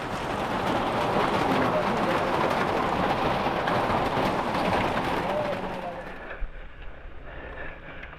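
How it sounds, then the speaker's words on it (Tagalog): Heavy rain pours in a dense, steady roar, loud and close, easing off in the final couple of seconds. "Lakas ang ulan."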